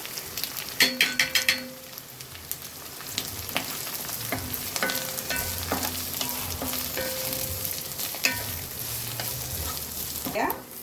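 Grated coconut sizzles as it fries in a pan for a pidikarunai kara kuzhambu, with a few sharp spatula stirs and clinks near the start, then a steady close sizzle broken by occasional scrapes.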